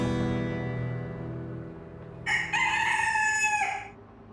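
A rooster gives a single loud, close cock-a-doodle-doo crow, with no talking.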